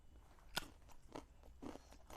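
Fresh lemongrass stalks are bitten and chewed up close, giving several sharp, crisp crunches spaced about half a second apart, quiet and with no talking.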